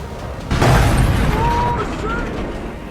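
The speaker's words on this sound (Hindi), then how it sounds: "इसमें तेजस नीचे गिरते और गिरने के बाद का धमाका एकदम साफ दिखाई दे रहा है।" A loud, deep boom as a Tejas fighter jet crashes at the Dubai Air Show bursts out and then rumbles on, heavy and distant-sounding, fading slowly over a few seconds.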